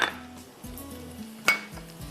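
Vegetables being added to a pan for Chinese beef, with a couple of sharp metallic clinks of utensils on cookware and faint handling noise in between, close and otherwise quiet, with no talk.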